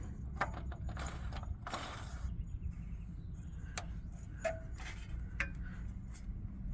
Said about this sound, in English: We're gonna screw it on, make sure it's on tight